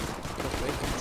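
Pistol gunfire in the game CS:GO during a competitive 5v5 match, heard as a dense, continuous burst of loud shots filling the whole moment.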